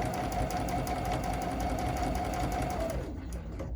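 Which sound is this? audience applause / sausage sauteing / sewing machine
sewing machine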